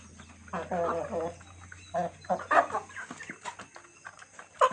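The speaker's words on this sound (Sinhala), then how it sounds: "කුකුල්ලු දෙන්නයි මේ කිකිලියෝ 4 දෙනා ඉන්නේ." Backyard chickens, two roosters and four hens with their growing chicks, cluck and call in short bursts, fairly close, with quiet gaps between the calls.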